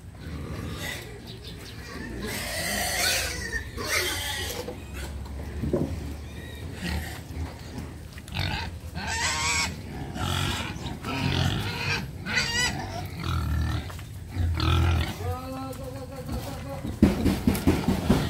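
Native mestizo pigs grunt and squeal in a pen, a busy mix of close snorts and calls with a person talking intermittently over them.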